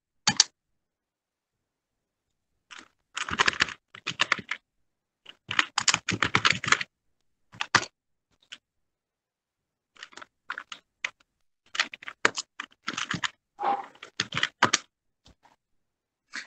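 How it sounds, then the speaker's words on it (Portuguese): Bursts of fast clicking keystrokes on a computer keyboard, loud and close, separated by silent pauses, with no talking. "Na hora que você digita Python lá na barra de pesquisa"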